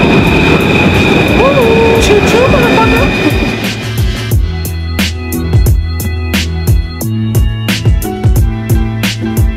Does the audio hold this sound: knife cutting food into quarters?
no